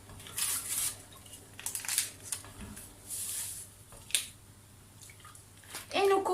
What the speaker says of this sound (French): Et nous continuons à mélanger jusqu'à ce qu'on ait une pâte